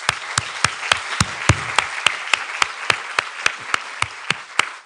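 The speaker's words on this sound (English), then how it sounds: "can we give them a big hand of applause?" An auditorium audience at a White Coat Ceremony for a graduating class claps steadily, loud and close, with sharp individual claps standing out in a continuous round of applause.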